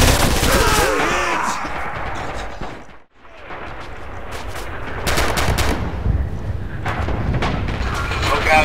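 Artillery and machine-gun fire crash through a Red Orchestra 2 battle on the Mamayev Kurgan map, dense bursts and booming impacts rolling on with a short lull mid-way, while voices call out over the din.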